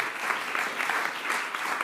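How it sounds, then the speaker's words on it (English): Audience applause at a journalism awards ceremony, a steady wash of many hands clapping at moderate volume for a couple of seconds, with no voices over it. "Round of applause."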